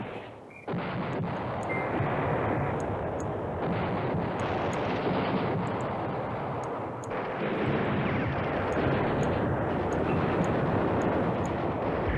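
Continuous bombing and artillery fire in the Command Ops 2 wargame forms a dense, loud wall of rumbling blasts and crackling gunfire, with faint higher ticks throughout and no talk.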